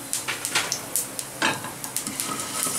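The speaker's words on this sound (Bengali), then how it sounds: "এইবার আমি এই মেথি, কালো জিরা আর মৌরিটা এতে দিয়ে দেব।" Fenugreek, nigella and fennel seeds sizzle in hot oil in a pan, a steady close crackle broken by brief stirring clinks and scrapes, with no voices.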